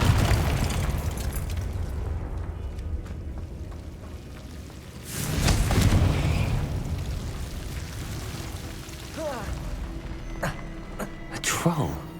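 Blasting spell exploding in the Hogwarts Legacy game, a deep rumbling boom bursting midway over a noisy battle background, followed by smaller crackles and pops.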